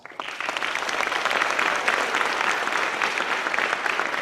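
An audience at Dearborn's State of the City address applauds the DPW crews, a full steady round of clapping that swells quickly and holds at a moderate level.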